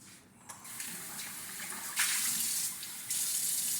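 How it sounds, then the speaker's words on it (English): Water pours steadily from a tap or jug into a container for mixing NMN powder, a close gushing stream that swells louder partway through, with no voices. "Add a little water"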